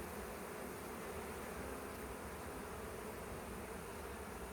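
Honey bees around an open beehive give off a steady, dense buzzing drone. It holds at an even, faint level the whole time, with no voices.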